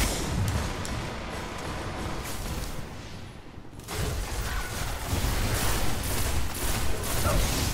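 Sustained gunfire fills a Control match in the video game Destiny's Iron Banner, with dense overlapping bursts and booms that drop briefly before resuming at full, close volume.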